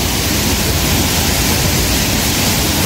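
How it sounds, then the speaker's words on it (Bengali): Waterfall at Mahendragiri, Odisha, with water crashing down and spray drifting off, a steady, loud, broadband roar that fills the scene without pause and no voices over it. "জলটা ওখানে পড়ছে আর জলটা উড়ে যাচ্ছে"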